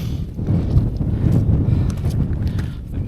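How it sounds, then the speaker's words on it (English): Strong wind buffets a microphone near the Esk Pike summit in the Langdale fells, a loud, continuous low rumble with gusty swells and no clear voices. "there you go, the wind's back again"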